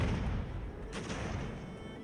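Cannon fire from sailing warships in a naval battle in Ultimate Admiral: Age of Sail: one muffled boom bursts out about a second in over a constant rumbling background, with no talk.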